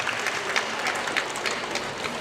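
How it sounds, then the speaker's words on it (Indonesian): Audience applause for Maros at the Festival Aksara Lontaraq cultural festival, a steady wash of many hands clapping at moderate volume throughout, somewhat distant, with no talk over it. "Kita beri aplaus dulu buat Maros."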